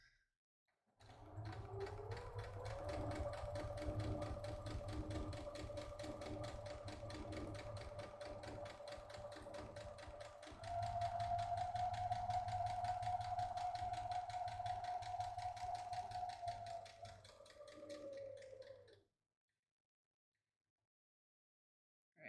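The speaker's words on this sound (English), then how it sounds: "Be careful you don't accidentally sew over another part of your bag while you're sewing this." A sewing machine stitches fabric for a drawstring bag in a long steady burst of rapid stitching, speeds up midway, then slows and stops into silence.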